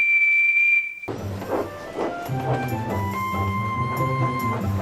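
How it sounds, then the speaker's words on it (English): A steam engine whistle sounds one long, loud, steady blast on its own, then cuts off into a busy passage of rumbling and tonal background sounds. "Percy blew his whistle long and loudly."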